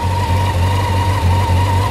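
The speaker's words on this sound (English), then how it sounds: "So it's idling with the choke off" A 1987 Honda CBR600 F Hurricane motorcycle engine idles steadily with the choke off, a loud, even low throb with a faint pulsing rhythm and a thin whine above it, alone with no talk.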